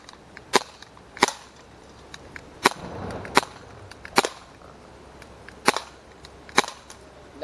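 A CO2-powered BB gun fires plastic bullets at cans, giving about ten sharp, snappy pops spaced unevenly through the stretch, fairly close and alone against a quiet background.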